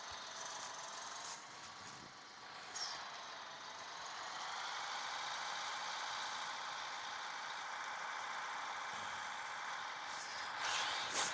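A tractor engine in Farming Simulator 14 drones steadily, with a broad hum and faint rattling. It stays at an even level throughout and rises briefly near the end.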